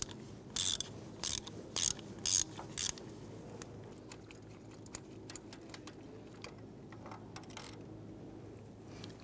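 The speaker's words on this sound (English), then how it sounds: "Using a 16 millimeter spark plug socket and extension, I'll go ahead, loosen and remove that spark plug." A ratchet turns a 16 mm spark plug socket on an extension to loosen a spark plug on a 1992-1996 Toyota Camry, with five quick bursts of close clicking early on, then fainter scattered clicks and taps.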